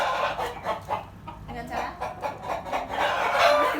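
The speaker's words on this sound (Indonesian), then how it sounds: "Jadi tadi kita sudah mengenali hewan di sekitar kita, yaitu apa, Adik? Ayam." Chickens cluck in repeated short bursts close by, mixed with an adult's voice briefly talking over them.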